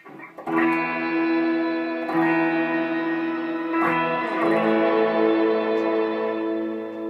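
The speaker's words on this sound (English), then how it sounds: "You can do a lot with this Octo reverb." A clean electric guitar rings through a Line 6 M13 lush octave-and-reverb effect, three strummed chords blooming into a long shimmering wash.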